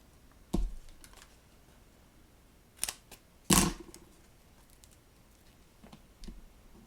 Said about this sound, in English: I'm going to go ahead and fussy cut from this punched out sprig piece